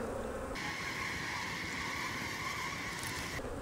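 Honey bees swarm over beehive frames during a spring brood box rotation, a continuous close, steady buzzing drone that holds at the same level throughout.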